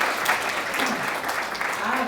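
Audience applause at a panel conversation event, a steady wash of clapping that holds at an even level throughout the short stretch.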